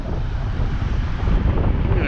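Strong wind blows across a beach causeway to Santa Rosa Island at Navarre Beach, Florida, a loud, continuous rumbling buffet on the microphone that swells toward the end.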